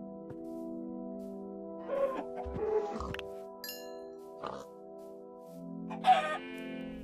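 Rooster-like fowl calls from a Minecraft chicken, a few short clucks and crowing-type bursts over a steady tonal game music bed, moderately near.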